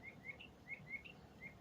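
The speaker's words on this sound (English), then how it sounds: "Birds are chirping, cutting out some of the volume." Small birds chirping outdoors: five faint, high, short tweets at a loose, even pace over a quiet background hum.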